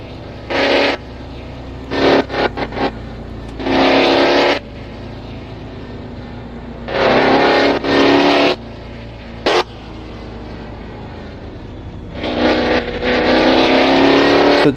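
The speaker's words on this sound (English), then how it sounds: "I just want to hear that car" Race cars at the SLC GTI Grand Prix of Sweden sweep past in separate loud bursts of engine roar, several close passes with quieter gaps between them, no talk over them.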